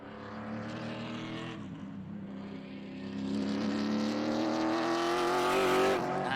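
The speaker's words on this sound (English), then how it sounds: "I'm just waiting for the third car to come across the line" Race car engines roar steadily at Road Atlanta, rising in pitch and loudness as a car closes in and passes the finish line, with continuous high-revving drone throughout.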